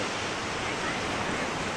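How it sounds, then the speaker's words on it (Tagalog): Ocean surf at Bauang beach produces a dense, continuous roar of breaking waves that stays loud and steady throughout the short stretch. "Laki ng alon na yun ha."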